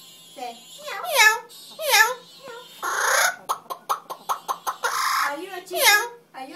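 A pet bird produces a run of chicken-like clucks, a rapid series of short sharp clucks between warbling squawks and speech-like chatter, close and fairly loud in a quiet room.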